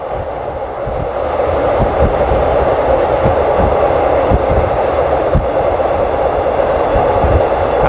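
Rapid train 135 from Krung Thep Aphiwat to Ubon Ratchathani rolls near Don Mueang, heard from inside the carriage as a loud, steady rumble with regular clickety-clack wheel beats over the rail joints.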